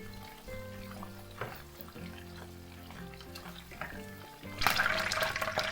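Chicken pieces sizzle and fry in hot oil in a kadhai for Peshawari chicken, a steady close crackle with stirring clinks, swelling into a louder, brighter burst of frying near the end.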